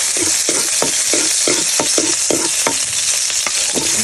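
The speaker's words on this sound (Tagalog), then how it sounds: "Gisa tayo ng ahos mga idol." Garlic and onion sautéing in a hot pan, a dense close sizzle punctuated by rhythmic spatula scrapes about every half second, with no talk.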